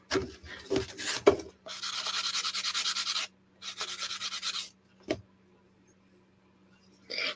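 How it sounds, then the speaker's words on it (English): A wooden steampunk clock part is hand-sanded up close: a few sharp knocks, then two rasping runs of sanding strokes, a single tap and a faint final scrape, with no speech. "spot there that I need to sand."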